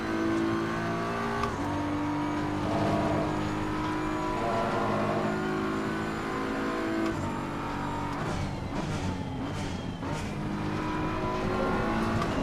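A BMW GT race car in Assetto Corsa Competizione roars close with a steady high engine drone, shifting pitch through gear changes and revving hard toward the end, with brief tire squeals.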